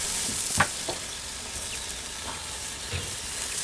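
Cote de boeuf beef sizzling on a grill, a steady close hiss of frying fat with a few sharper crackles and pops scattered across it, no voices.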